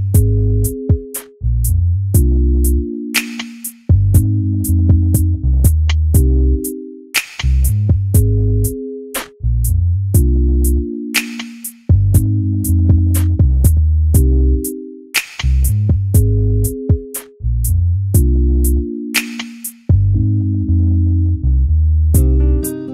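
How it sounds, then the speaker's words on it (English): A steady drum beat with sharp snare and cymbal hits drives a loud band groove over bass, repeating in regular bars throughout. "now we hit the drum"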